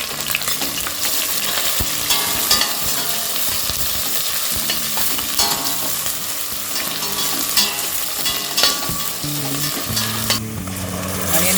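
Thinly sliced onions frying in a pan, with a continuous loud sizzle and crackle and occasional stirring scrapes throughout, no voices.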